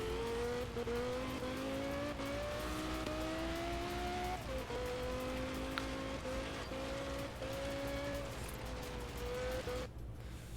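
A Porsche 918 in a racing video game drives steadily, its engine drone rising and falling through gear changes with a faint tire squeal, the sound cutting out near the end.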